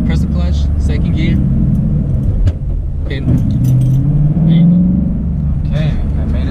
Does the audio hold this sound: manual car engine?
yes